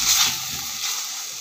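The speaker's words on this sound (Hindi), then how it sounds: "तो जब हम इसको इसके अंदर खूब अच्छे से भून लेंगे" Spices such as white pepper and paprika powder frying in oil in a pan for bread patties, a steady close sizzle and hiss with no talking.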